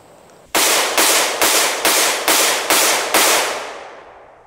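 Seven sharp pistol shots from an S&W Performance Center Shield Plus ring out in a fast, even string, each a loud close crack with a brief decaying tail and no talking.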